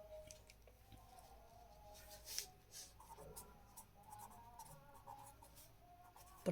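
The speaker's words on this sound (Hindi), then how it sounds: "तो हम लोग यहाँ पे लिखेंगे" Pen scratching on paper during a fourth-grade division worksheet, a steady faint scribbling texture throughout with small taps and strokes, close and continuous.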